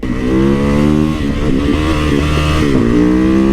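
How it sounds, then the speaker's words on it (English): A WR250R motorcycle is ridden along twisty roads, its engine loud and close, rising and falling in pitch as the rider rolls on and off the throttle through the bends, with no voices. "And here you go, baby, riding some twisty action. Having good time on my WR250R."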